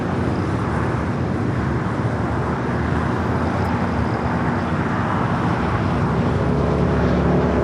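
A Boeing 787 Dreamliner airliner rolls down the runway at LAX, a steady broad roar of jet engines and rumble heard at a distance, continuous for several seconds with no talk over it.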